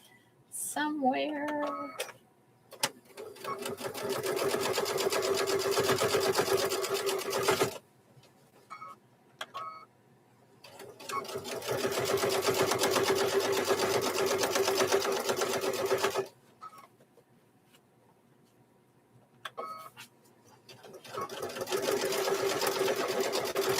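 A Husqvarna sewing machine stitches a fabric microwave bowl koozie in three long bursts of fast, steady mechanical whirring, separated by short pauses with faint handling noise and a brief voice near the start.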